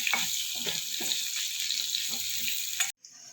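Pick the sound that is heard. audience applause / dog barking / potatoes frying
potatoes frying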